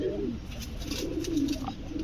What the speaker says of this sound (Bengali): আমি গত মাসে এই কবুতরটা নিয়ে আসছি